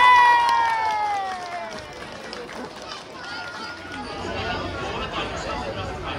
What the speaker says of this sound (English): Well done, give him a big round of applause.